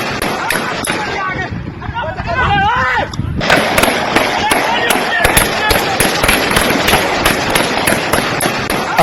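At a protest by townspeople in Sindh, a crowd fires guns into the air. Loud, sharp reports crack in a rapid, irregular string, close and harsh, over crowd shouting and a brief stretch of speech.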